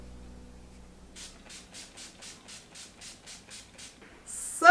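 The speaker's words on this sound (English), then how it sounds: "In my matte finish setting spray." Matte finish makeup setting spray pumped in about a dozen quick, evenly spaced spritzes, close and fairly soft, followed by a louder hiss at the end.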